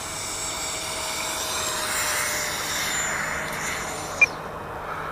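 An FMS 70mm F-18 RC jet at full throttle during a takeoff attempt with one notch of flaps gives off a steady, loud ducted-fan whine for about four seconds, then cuts off with a sharp click.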